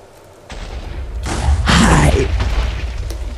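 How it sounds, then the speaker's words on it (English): A TNT block in Minecraft goes off as one loud, close boom that rolls into a sustained, broadband rumble and slowly tails away, with no talk over it. "That TNT."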